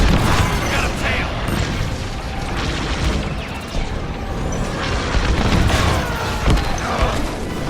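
Starfighter bombers blowing up in Star Wars Squadrons over Yavin, a dense run of booms and bursts rolling over several seconds, loud and close, with game mechanical noise throughout.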